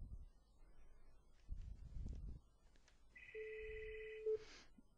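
A telephone ringtone from VOIspeed VoIP phone software plays quietly for about a second as two steady electronic tones, over faint background rustle.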